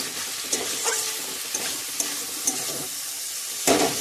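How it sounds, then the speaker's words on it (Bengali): Chopped tomato and Kashmiri red chili powder fry in a pan with a continuous close sizzle, broken by repeated scraping strokes of a spoon stirring the spice mix. "এবারে ভালো করে নাড়িয়ে চাড়িয়ে কষিয়ে নেব।"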